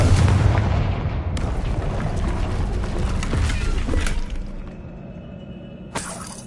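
A Confringo fire spell exploding during a troll fight in the Hogwarts Legacy video game: a loud crashing blast with shattering debris that rumbles for several seconds and then fades, followed by a short sharp crack near the end.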